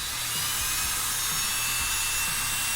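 A cordless drill whines steadily while backing long bolts out of the front end of a Losi DBXL-E 2.0 RC car, a continuous close mechanical buzz with no talk.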